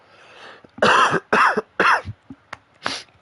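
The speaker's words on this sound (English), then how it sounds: "It's been a while since I've fucking coughed up my lungs." A man coughs hard up close in a burst of four loud, rasping coughs, followed by a few small throat sounds and one last cough.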